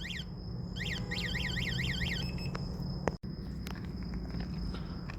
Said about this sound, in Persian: این هم که دزدگیرش.